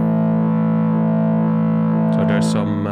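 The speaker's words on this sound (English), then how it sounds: "I used this cowbell and again used the drumstick to hit it like that. And again layered with the Drift synthesizer," A drumstick strikes a cowbell, layered with an overdriven Drift synthesizer in Ableton, making a loud, sustained, buzzing distorted tone that holds steady before a burst of brighter metallic hits near the end.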